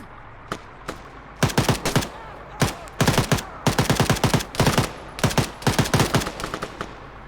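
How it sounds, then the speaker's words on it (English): Video game gunfire crackles in rapid bursts of automatic shots, loud and close, with a few single shots at first, then clustered volleys in a fast uneven rhythm over a low background hum. "Sounds like Apollo's Shots"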